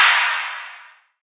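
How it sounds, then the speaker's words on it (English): A single self-made riddim clap sample with its lows and low mids cut hits once, loud and bright, then its noisy tail fades smoothly over about a second into silence. "Here's a clap that I made a while back."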